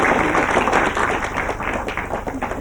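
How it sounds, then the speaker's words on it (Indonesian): Studio audience applauding a game show winner on a comedy variety show, a steady dense clatter of many hands filling the whole moment at close range. "Tepuk tangan buat Pak Manca ini"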